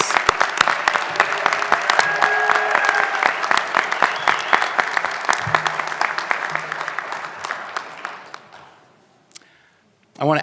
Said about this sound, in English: A round of applause for all of our graduates.